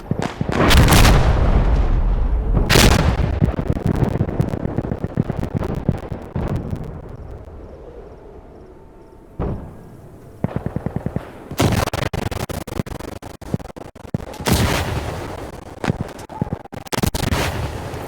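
Artillery barrage in the video game Insurgency Sandstorm: heavy booming blasts and rattling gunfire, loud and dense at first, thinning out midway, then several sharp, loud impacts near the end.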